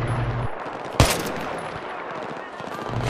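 Machine gun fire in Battlefield 3, dense rattling bursts with one sharp loud crack near the start, set against a busy battlefield din.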